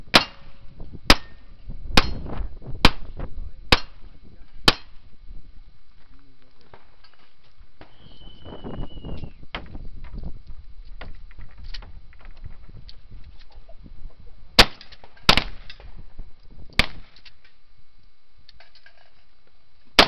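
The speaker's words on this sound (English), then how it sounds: "Now he goes to the pistols." Sharp single pistol shots ring out at a cowboy action shooting stage, a quick run of about six evenly spaced reports, then a lull with background chatter and clatter before another cluster of shots.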